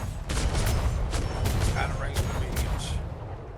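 Ship cannons fire a starboard broadside in a naval video game, a ragged series of sharp booms spread over a few seconds, heard under voices talking.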